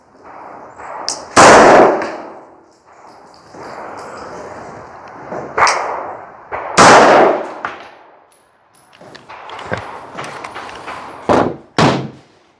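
Glock 49 Gen 5 MOS pistol with a Holosun SCS MOS green reticle sight fired while zeroing, a few loud sharp shots spaced apart and ringing outdoors, with brief talking between them.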